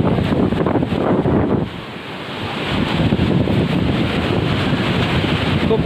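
Violent storm-surge waves crash at Digha Mohana while strong wind buffets the microphone, a loud, dense, roaring wash that dips briefly and then surges back.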